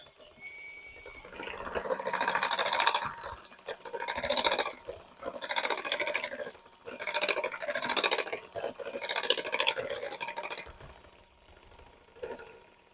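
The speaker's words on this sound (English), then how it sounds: "I'm going to beat these eggs up and my potatoes." A handheld rechargeable mixer beating eggs and sweet potatoes in a bowl, a close buzzing whir that comes in several bursts of a second or two with short pauses between them.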